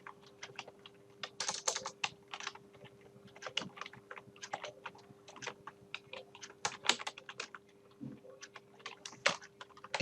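Fingers tap steadily on a computer keyboard during a PC lesson, a quick irregular patter of light clicks and key presses at close range, with brief pauses between bursts and a faint steady hum underneath.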